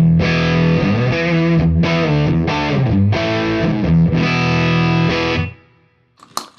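An electric guitar played through a JFET boost pedal rings out loud, sustained chords with a slightly fuzzy, gritty edge, then cuts off abruptly and a few quiet clicks follow.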